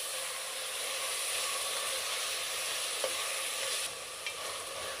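Mutton pieces frying and being stirred in hot oil with onions, a steady loud sizzle and hiss throughout, with a couple of brief utensil clinks near the end and no talk.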